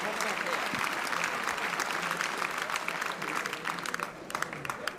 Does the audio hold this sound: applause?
yes